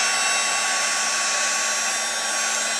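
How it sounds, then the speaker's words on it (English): A hair dryer blows steadily on dress lining fabric, a continuous close, loud whoosh with a faint motor whine and no talking. "you just kind of gently blow dry it until it starts crinkling up"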